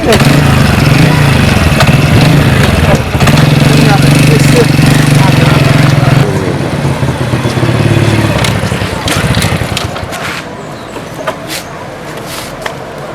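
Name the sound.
motorcycle engine running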